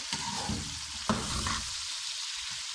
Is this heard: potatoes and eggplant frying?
yes